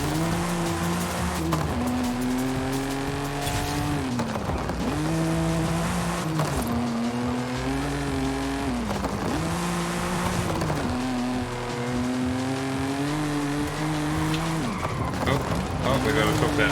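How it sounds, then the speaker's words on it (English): A race car in Forza Horizon 5 roars continuously with rising and falling engine revs and shifting gear pitches, along with some tire noise, loud and close throughout. "Damn, this car sounds good as hell."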